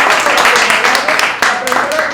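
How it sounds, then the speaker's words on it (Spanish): An audience claps for a professor at a talk, a dense, steady wash of applause filling the room from start to finish. "vamos a darle un aplauso a la profesora"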